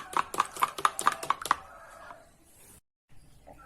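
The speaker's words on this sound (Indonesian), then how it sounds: "Telur kita kocok lepas ya, sampai tercampur putih dan kuningnya." Eggs beaten loose in a bowl until whites and yolks blend, for Danish pastry dough: a quick run of about eight sharp clicking taps, then a quieter fade.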